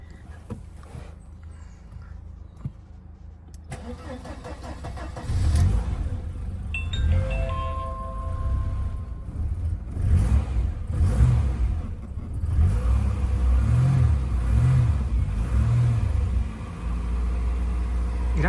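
A 1988 Mercedes-Benz 190E (W201) engine cranks and catches quickly, then settles into a steady, low rumbling idle that continues close by, with a faint whir and no talking.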